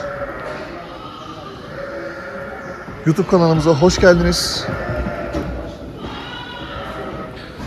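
Merino female lambs bleat on a farm in a short cluster of a few calls, partly overlapping someone talking who speaks throughout.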